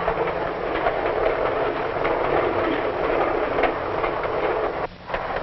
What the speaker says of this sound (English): While the train speeds into the dusk, the porter prepares beds for his passengers.